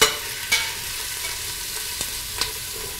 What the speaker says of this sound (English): We're going to stir it around a little in the oil.